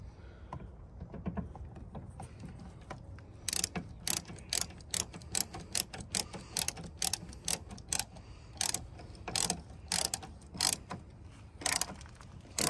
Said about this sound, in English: I'm only going to tighten that just a little bit of the way to make sure I can get these other two